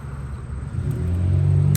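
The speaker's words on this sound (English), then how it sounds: "you can kind of hear the cars going by on the freeway" Vehicles roll past on a freeway near the intersection of Route 9 North and I-87 in upstate New York, a low rumble swelling steadily as traffic approaches.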